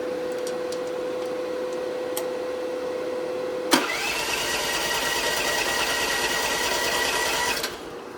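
A Mr Cool DIY air conditioner in a workshop switching on: a steady hum gives way to a sharp click, then a loud, even whir of fan and compressor runs for several seconds before cutting off.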